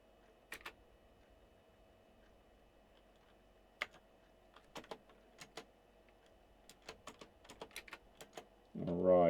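Keys clacking on an Apple II computer keyboard, sparse irregular taps and short bursts close by at a quick pace, ending in a louder rustle.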